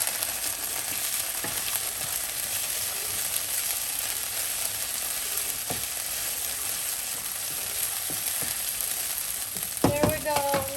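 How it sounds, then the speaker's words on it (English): Cashews and ginger garlic paste sizzle in a pan with a broad, steady frying hiss, a few soft stirring scrapes and knocks scattered through, and a brief clatter of utensils near the end, close and even in level. "And I'm going to add my cashews and stir this for 30 seconds, about 30 seconds."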